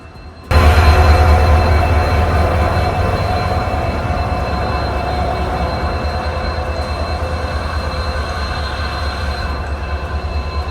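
A train locomotive at a station on the Bodinayakkanur line starts up abruptly with a deep, loud rumble and a steady mechanical drone that carries on evenly, with faint metallic squeals.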